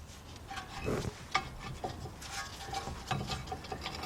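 A brake caliper bracket with pads already fitted slides over the front spindle of a 2006 Kia Sorento 4WD, giving soft metallic rubbing and scraping with a few light knocks, close and fairly quiet, no talking.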